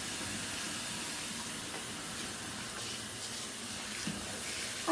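Steady running tap water pours continuously while a dyed jumpsuit is rinsed under it in a sink, a constant broadband wash with small splashes throughout and no talking.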